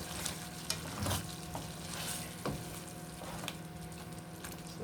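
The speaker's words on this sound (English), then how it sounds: "Alright, so it's been a couple minutes, so let's mix this up." Stirring chicken tikka masala made with jar sauce after a couple of minutes in the microwave, giving steady wet scraping and squelching with a few sharper knocks, close and continuous with no talking.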